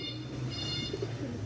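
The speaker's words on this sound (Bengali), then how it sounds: "কবুতর অনেক আছে আসলে" Pigeons kept for sale in Mirpur 1, Dhaka, cooing softly in a short low murmur over steady background noise, with a few faint chirps mixed in.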